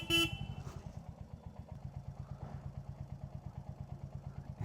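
A Royal Enfield Hunter 350 motorcycle gives a short, loud horn blast at the very start, then its single-cylinder engine keeps up a steady, rhythmic thumping idle.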